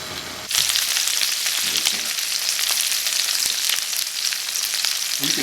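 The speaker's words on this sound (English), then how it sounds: "You can hear the chicken sizzling in the pan." Steady, crackling sizzle of chicken frying in a hot pan, close and continuous, with occasional sharper pops and spatters.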